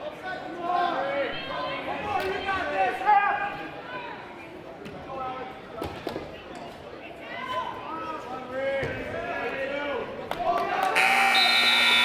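A buzzer closes a high school varsity wrestling match between Germantown and Sussex Hamilton in a gym, sounding loudly at the very end after stretches of commentary and crowd chatter.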